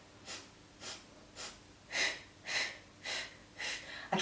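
A person doing a sniff-blow breathing exercise makes seven evenly spaced breaths, the later ones stronger and harsher. Each airy sniff or blow comes up close and clear over near silence, with no talking.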